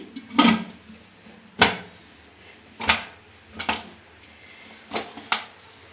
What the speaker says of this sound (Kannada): ನೋಡಿ ಕುಕ್ಕರ್ ಕ್ಲೋಸ್ ಮಾಡ್ತಾಯಿದ್ದೀನಿ